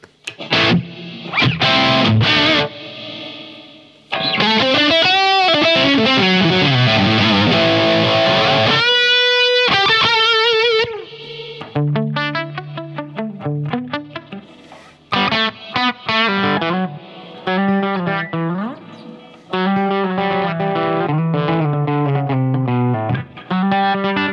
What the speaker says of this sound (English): You can change that, of course, into a spring reverb if you want.